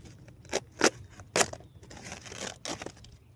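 Close, sharp rips and crinkles of tape being pulled and torn off a winter sowing container, in a few quick irregular bursts followed by softer scraping.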